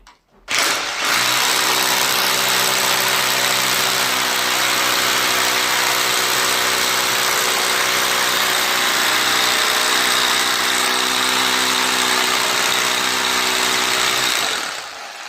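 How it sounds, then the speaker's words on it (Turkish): A power drill bores into a wall to mount a curtain rod. A loud, close, steady motor whine with a droning hum kicks in suddenly and runs unbroken for about fourteen seconds before stopping, with no speech. "Şimdi ben burayı deldim. Gördüğünüz gibi buradan toz çıkıyor."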